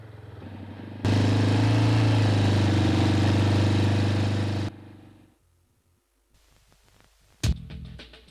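An ATV engine catches and settles into a steady, loud idle for several seconds, a low even rumble, then cuts off, leaving near silence broken by a few faint clicks and a sharp knock.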